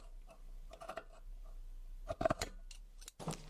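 Scissors snip through upholstery fabric for a box cushion cover, a few short dry cuts spaced out at close range with brief rustling of cloth between them.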